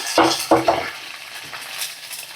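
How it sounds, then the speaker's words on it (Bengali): White mustard seeds, curry leaves and green chillies hit hot oil with two loud, close bursts of crackling sizzle, then settle into a softer, fading fry with faint pops. "এই যে সর্ষে আর দেখো কারি পাতা দিয়ে দিলাম আর কিছু কাঁচা লঙ্কা দিয়ে দিলাম"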